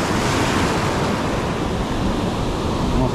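Ocean waves breaking on the Oregon shore during a fishing outing: a steady, loud wash of surf and wind noise filling the scene continuously, with no distinct pauses.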